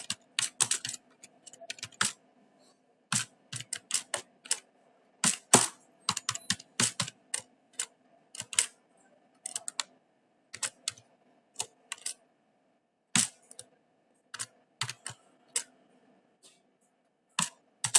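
Computer keyboard keys typed in quick irregular bursts while entering a decimal number for a BCA lab program, with close, crisp clicks separated by short pauses and no talking.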